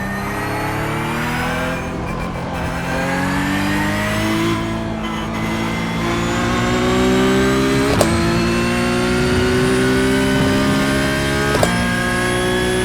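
Race car engine in a racing video game played on a triple-screen rig, a loud, continuous high-revving drone whose pitch climbs steadily through gears, with brief sharp shift clicks near the end.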